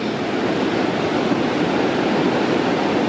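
Rushing river water flowing beneath a bouncy suspension bridge, a steady, dense broadband roar that stays loud and unbroken throughout with no other sounds.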